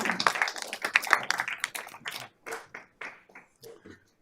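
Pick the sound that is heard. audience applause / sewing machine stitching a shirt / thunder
audience applause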